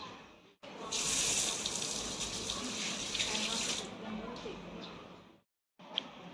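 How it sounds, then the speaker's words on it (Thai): A tap runs into a school handwashing sink, a close, steady splashing stream lasting several seconds before it briefly cuts off and then resumes. "เรามีอ่างล้างมือเพื่อสำหรับการล้างมือปลอดจากเชื้อโรคค่ะ"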